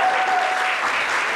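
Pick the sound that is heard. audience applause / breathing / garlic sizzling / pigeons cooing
audience applause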